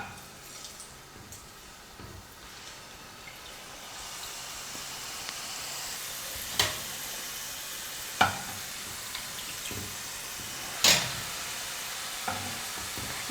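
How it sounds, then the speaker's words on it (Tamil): Murukku dough frying in hot oil in a kadai, a soft continuous sizzle that grows as pieces go in, with a few sharp clicks and taps from the utensil, close and quiet, no talk. "இப்போ இந்த மாதிரி சின்ன சின்னதாக நம்ம மாவை சுற்றி சுற்றி எண்ணெயில் போட்டு எடுத்துக்கலாம்."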